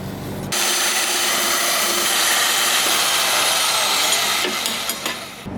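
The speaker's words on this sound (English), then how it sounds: "So I'm gonna see if I have a nut for this, start cutting metal, make something work." A power tool cutting metal in a shop during a Cummins-to-Ford 6.4 swap build, one sustained loud grinding, whining cut that starts abruptly and runs steadily for several seconds before tapering off.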